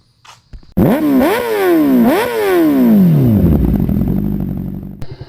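A Suzuki Raider 150 motorcycle engine revs hard and close, with repeated rising throttle sweeps as it pulls away, then settles into a loud steady roar with some clatter.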